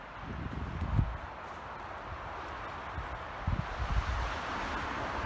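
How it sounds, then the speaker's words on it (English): Strong wind gusts across an outdoor woodland spot, a steady low rushing roar buffeting the microphone with a few heavier thumps and rustles, no talking. "Ooh, that wind's kicked up."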